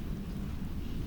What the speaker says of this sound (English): The thunder tonight is more like a lullaby hummed by something very large and very old.